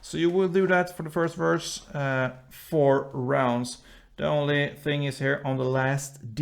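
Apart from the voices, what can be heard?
No everyday noises stand out.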